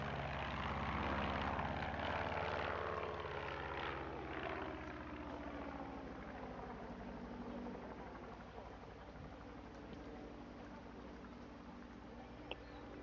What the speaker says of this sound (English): there's a plane passing by